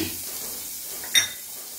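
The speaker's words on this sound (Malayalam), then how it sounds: "ബട്ടറിലിട്ട വെളുത്തുള്ളിയൊക്കെ പൊരിഞ്ഞ് വന്നിട്ടുണ്ട്" Garlic frying in butter in a pan gives a steady, close hiss of sizzling, broken once by a short metallic clink of a utensil.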